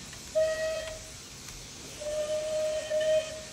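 A steam locomotive whistle from a Merchant Navy Class engine in Train Simulator 2020 sounds twice, a short blast then a longer tonal one, over a steady steam hiss with no talking.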